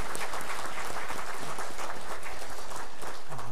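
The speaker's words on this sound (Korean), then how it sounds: "우리 격려의 박수 한번 합시다." A church congregation applauds the choir during a Sunday worship service, dense sustained clapping filling the room at steady loudness.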